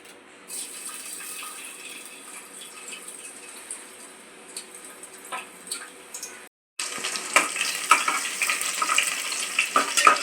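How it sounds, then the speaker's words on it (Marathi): Garlic dropped into hot oil in a heated pot for a village-style crab curry crackles and sizzles continuously, with scattered spatter pops; a brief gap is followed by louder, denser frying with stirring, and no voices. "आता त्यात लसूण टाकूया"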